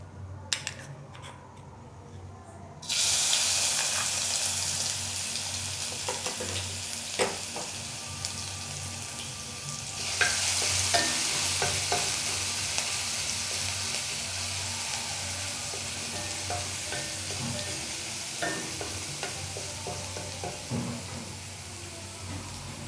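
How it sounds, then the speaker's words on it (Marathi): Green chillies dropped into hot oil in a kadhai, with a sudden strong sizzle that keeps up steadily, swells again partway through, and is scattered with small crackles and pops close by. "कढईमध्ये तेल तापलेलं आहे. आधी आपण मिरची टाकून घेऊया."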